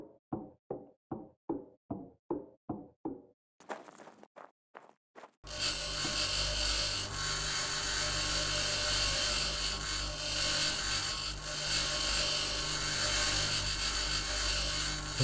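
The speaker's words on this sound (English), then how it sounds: "I'm just going to grind this thing up now." Rock being ground into cement in the Mars colony game Occupy Mars: a row of sharp knocks gives way to a steady, loud, continuous mechanical grinding roar that runs without a break.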